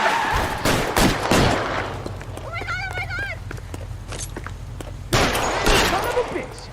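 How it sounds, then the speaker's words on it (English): Gunfire shootout in L.A. Noire, with bursts of shots near the start and again near the end, sounding close and loud over game ambience, with a shouting voice in between. "They're shooting at us!"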